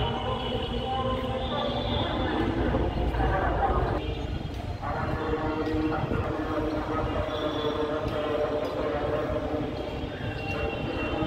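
A metro rail train rumbles past on an elevated line in Dhaka city, a steady loud roar with some rattling, while voices chatter nearby.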